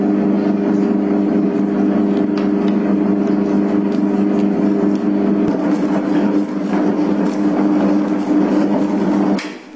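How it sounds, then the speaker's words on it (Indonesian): An electric dough mixer kneads bread dough with a loud, steady motor hum and whir that runs almost without a break, its tone shifting partway through before it cuts off at the end. "Langsung mengadon, nyalakan mesinnya."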